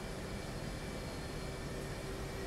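Jet aircraft taxiing across an aircraft carrier deck in the DCS combat flight simulator, a steady, loud engine roar with a constant whine, unbroken and without talk throughout.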